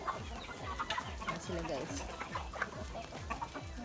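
Chickens on an organic farm, fed kitchen leftovers, cluck steadily and close by in a busy overlapping chorus, with a person talking over them.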